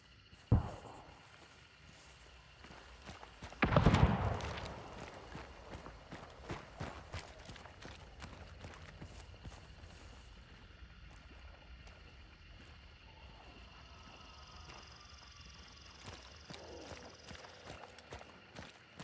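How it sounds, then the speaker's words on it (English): Footsteps in the video game Hunt Showdown tap in an irregular series of soft clicks after a sharp thud and a loud burst near the start, faint against a quiet ambient background. "I'm hearing footsteps over there."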